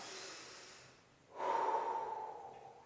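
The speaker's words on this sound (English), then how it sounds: "So you're going to breathe in, and as you breathe out, you breathe your navel down" A person breathing during a knee exercise routine: a soft exhale fades out, then a sharper, louder breath follows after a brief pause, close and quiet with no talking.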